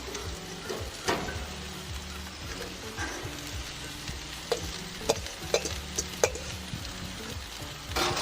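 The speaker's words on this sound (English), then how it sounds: "Hear the sizzle" Vegetables sizzle and crackle steadily in hot oil on a barbecue, with occasional clinks and scrapes of a utensil stirring in the pan.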